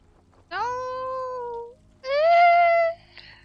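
A cat in a video game gives two long, drawn-out meows, loud and clear against near silence, each lasting about a second.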